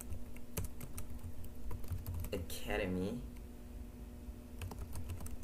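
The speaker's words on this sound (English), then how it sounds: "Sorry, I'm typing slow. I don't know. My fingers are tired. I've been typing the whole day." Typing on a computer keyboard, with rapid, light clicking keystrokes throughout, close by, while a voice briefly speaks in the middle.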